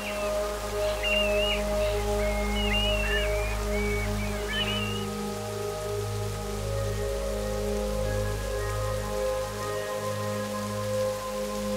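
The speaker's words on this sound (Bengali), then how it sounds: "তখনও বৃষ্টি চলছে।" Steady rain falling near Elephant Falls in Meghalaya, a continuous even patter with a low background wash and a few faint bird calls over it.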